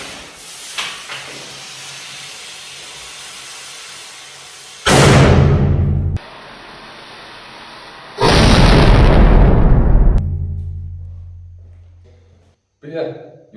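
An airsoft TAG19 frag grenade thrown outdoors goes off in two loud hissing bursts, each a sustained rush of gas lasting a second or two, heard close with brief rustling between and after.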